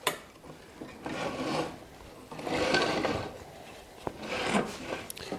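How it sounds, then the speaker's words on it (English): Wooden slats on a pre-war sled scrape and rub as they slide out from under a riveted metal frame, giving several bursts of broad, gritty friction noise at close range with short pauses between pushes. "I should be able to slide the wood slats out from underneath here"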